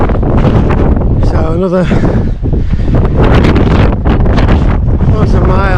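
Strong wind buffets the microphone on a coastal ultra marathon course on Gozo, a loud continuous roar and rumble under a runner talking as he moves.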